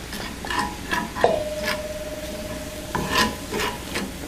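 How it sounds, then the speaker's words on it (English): Turmeric, garlic and ginger being stirred into yellow lentils in a pot, a soft scraping stir under a faint sizzle, with a thin ringing tone through the middle. "take your turmeric, your garlic and ginger, and mix these guys in"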